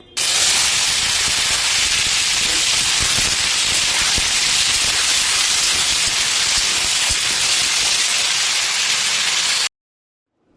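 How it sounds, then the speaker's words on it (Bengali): Cut potatoes dropped into hot oil left over from frying small fish, giving a loud, dense, continuous sizzling hiss for about ten seconds before it cuts off abruptly. "ভেজে রাখা যে তেলটা ছিল সেই তেলের মধ্যে দিয়ে দেবো আমি কেটে রাখা আলু"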